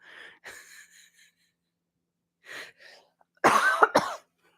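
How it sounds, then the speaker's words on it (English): A few short, raspy coughs spread across a mostly quiet stretch, the last burst loudest and harshest, close to the listener. "So the cough is getting pretty uncomfortable."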